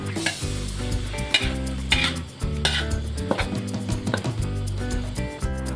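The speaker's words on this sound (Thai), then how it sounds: "เทปลากระป๋องราดพริกลงไปครับ แล้วก็ผัดไปอีกรอบ ครับผมให้เข้ากันครับ" Kale being stir-fried with canned fish in chili sauce in a pan: steady loud sizzling under repeated scrapes and clanks of a utensil stirring against the metal, with no voices.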